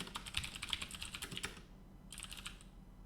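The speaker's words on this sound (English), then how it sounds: "I'm typing this into totally the wrong code" Rapid, uneven clicking of keys on a computer keyboard as code is typed, a burst of close keystrokes, a brief pause, then another short flurry, with no talking.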